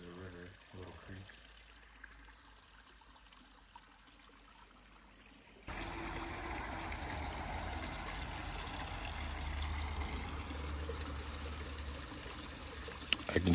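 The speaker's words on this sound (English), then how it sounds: "And then this is a river, a little creek." Steady trickling and rushing water from a small stream, faint at first then louder and closer, continuous throughout.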